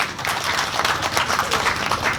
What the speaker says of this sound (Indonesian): Tepuk tangan untuk Bung Jeffrey.